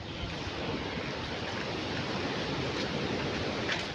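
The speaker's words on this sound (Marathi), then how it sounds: "पाठीमागून समुद्र" Sea waves wash steadily behind Chaityabhoomi at Dadar, Mumbai, a broad continuous surf roar with no distinct breaks, mixed with faint wind.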